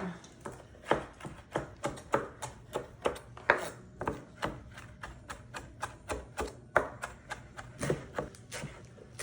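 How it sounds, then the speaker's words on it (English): A knife chops fresh basil leaves on a cutting board for a Thai red coconut curry, a fast steady run of close sharp taps, about two per second, with no speech. "now we're gonna chop up some fresh basil leaves"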